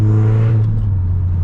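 A steady low exhaust drone hums from a tuned Stage 2 VW Mk8 Golf R with a turbo-back exhaust while it cruises. The droning tone holds evenly for a moment with no voices.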